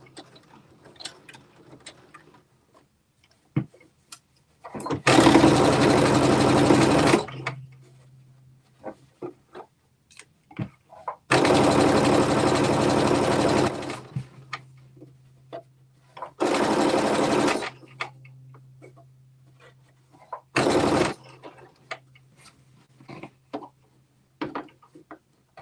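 A domestic sewing machine stitching a 5/8 inch seam allowance with backstitching, running in four loud bursts of rapid whirring stitches separated by quiet pauses filled with light handling clicks and a faint steady hum.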